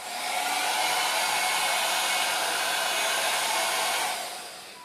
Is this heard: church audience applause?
no